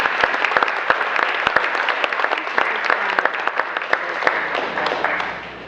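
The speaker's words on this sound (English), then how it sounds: "We're going to give them a round of applause." An audience at a Republican Board of Aldermen candidate forum gives the candidates a round of applause, a moderate crowd clapping steadily with distinct individual claps standing out, no talk over it.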